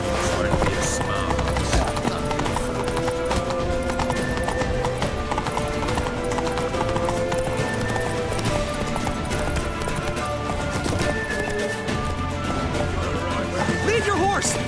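Horse hooves clip-clop at a steady gallop in The Witcher 3, with occasional neighs, over dense game music and shouted voices throughout.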